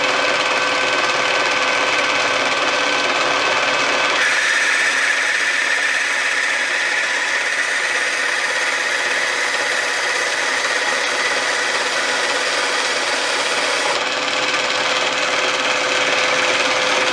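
A machine runs at full speed turning brass stock for a small engine needle valve, giving a steady, loud, continuous whine and rumble that shifts slightly in tone partway through and carries on without any talk.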